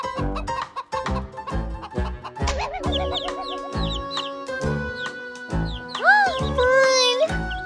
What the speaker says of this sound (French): Poule!